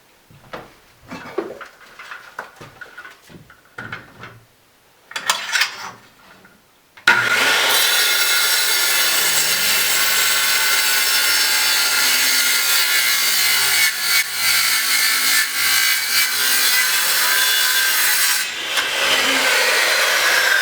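After a few quiet handling knocks, a wooden board clamped down for building a sofa-table bookcase is sawn in a loud, continuous, close-up cutting run that lasts for over thirteen seconds.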